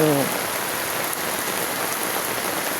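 Heavy, unbroken rain pours down on surfaces, a dense constant hiss of drops close by, with a brief low voice-like sound at the very start.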